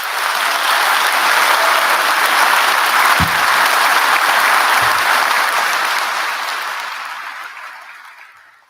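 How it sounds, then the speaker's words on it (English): Audience applause at a graduation ceremony, a dense, steady wash of clapping held for several seconds before slowly fading out. "And a round of applause for that group."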